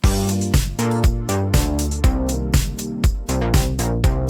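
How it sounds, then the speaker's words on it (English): A short, stabby synth part plays punchy chords in a tight rhythm, each hit about half a second apart and cut off sharply, loud and clear with nothing else around it. "A much stabbier synth part that sounds like this."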